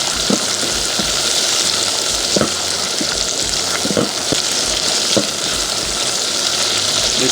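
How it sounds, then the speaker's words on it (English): Tomato and rice sauce simmering in a pan, a steady close bubbling sizzle with scattered small pops and crackles running continuously without talk. "Let's simmer it for a few seconds."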